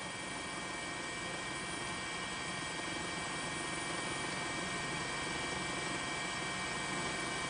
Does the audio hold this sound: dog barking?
no